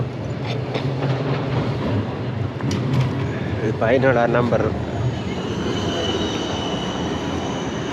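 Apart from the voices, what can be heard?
tram passing on the street in Amsterdam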